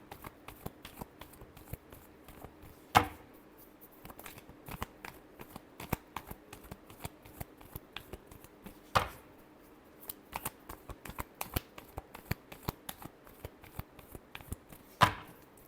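Tarot cards are shuffled softly and steadily with light flicks and taps, broken every few seconds by a sharper riffle or snap, all close and quiet with no talking.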